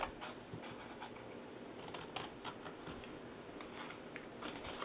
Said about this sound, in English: And then we're going to cut the top of this one off.